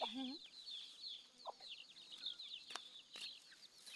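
Village chickens being raised in rural Thailand cluck in short, scattered calls at close range, with a few sharper squawks and chirps spread across a quiet background.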